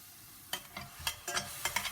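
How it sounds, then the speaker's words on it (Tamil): Zucchini stuffing spiced with chili powder and turmeric sizzles quietly in a pan while a spatula scrapes and stirs it in about seven quick, irregular strokes. "முடிய நல்லா வதக்கி எடுக்கணும்."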